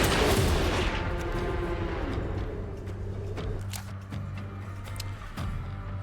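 Shadow barrage gunfire attack in the Western tactics game Hard West 2, starting with a loud booming discharge that rolls into a sustained rumble, then a scatter of sharp cracks toward the end.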